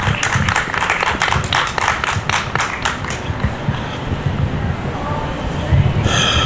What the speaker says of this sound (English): So if we could give him a round of applause.